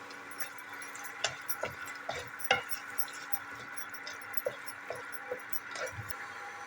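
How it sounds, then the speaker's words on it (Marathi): Mutton liver sautés in oil in a pan, with a soft steady sizzle and scattered light clinks and taps of a spoon against the pan, quiet throughout. "हे पाच मिनटं आपल्याला चांगलं परतून घ्यायचं"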